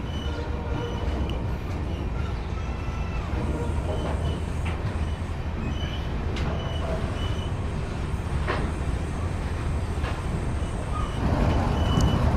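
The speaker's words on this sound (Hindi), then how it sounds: "हमारी ट्रेन बदरपुर को लीव करती हुई" The 15664 Silchar–Agartala Express pulls out of Badarpur in Assam, giving a steady, loud rolling rumble of wheels and carriages that holds without a break from start to finish.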